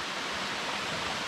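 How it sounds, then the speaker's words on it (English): Rushing water from waterfalls at a secluded Oregon hiking spot, a dense, steady roar that fills the whole clip without a break. "made it over to the waterfalls"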